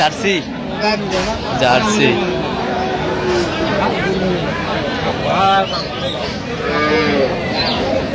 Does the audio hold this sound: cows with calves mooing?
yes